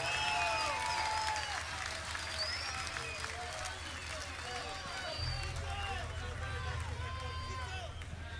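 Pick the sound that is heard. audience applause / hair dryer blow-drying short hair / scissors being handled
audience applause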